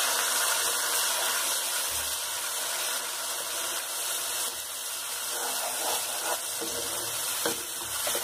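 Onion, cashew and green chili paste frying in a pan with whole spices, a steady loud sizzle and hiss throughout with faint scraping of stirring.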